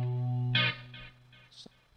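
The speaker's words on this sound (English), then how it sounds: "I'm going to back off the flanger because with the delay, it's really going crazy." Electric guitar played through a Vox StompLab 1G multi-effects pedal with heavy flanger and delay, a sustained chord washing into a swirling burst that trails off into fading echoes.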